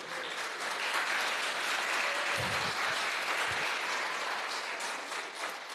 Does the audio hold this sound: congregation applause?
yes